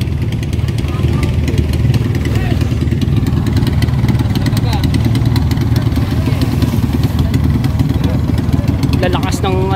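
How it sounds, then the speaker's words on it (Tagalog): A boat engine runs steadily and loudly at sea, a constant low mechanical drone throughout with faint voices and clatter over it. "tunog ng makina"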